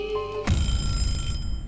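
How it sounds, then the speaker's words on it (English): An egg timer goes off with a sudden bright, sustained metallic ringing that starts partway in and keeps going to the end, loud and close, with no talking over it. "You never done this with an egg timer?"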